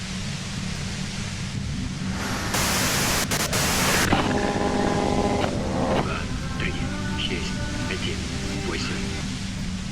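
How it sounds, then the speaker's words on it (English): Radio white-noise static in the video game Disco Elysium: a steady hiss breaks into loud broadband bursts, then gives way to sustained tonal hums, with voices speaking throughout. "you can do it through the white noise"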